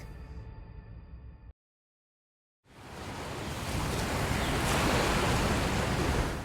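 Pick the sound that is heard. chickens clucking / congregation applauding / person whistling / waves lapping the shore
waves lapping the shore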